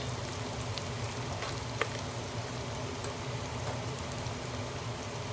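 Onions fry in oil in a pot with a continuous, even sizzle like light rain, steady and close at moderate volume, with a single small tap partway through.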